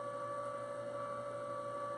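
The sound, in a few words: Filabot extruder running while extruding PLA filament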